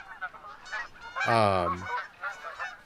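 Geese in theHunter video game's Hirschfelden reserve give a loud, nasal honk near the middle, with softer honks before and after and a brief spoken word.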